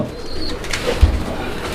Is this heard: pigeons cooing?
yes